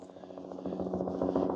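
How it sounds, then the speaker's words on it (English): A tour helicopter's rotor chop thuds rhythmically, growing slightly louder as the aircraft draws nearer to land. "That's one of the helicopter tours returning."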